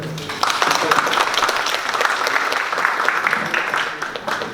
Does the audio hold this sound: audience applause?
yes